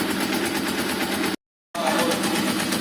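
A brand-new motorcycle engine idles during break-in with a loud, steady, rapid putter. The sound cuts out briefly partway through, then resumes.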